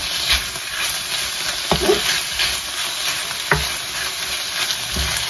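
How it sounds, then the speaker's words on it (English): Chicken stir-frying with browning sauce crackles and sizzles steadily up close, broken by several sharp scrapes and knocks of stirring in a loose rhythm, without speech. "So I'm putting a bit of the browning. Let's stir it some more."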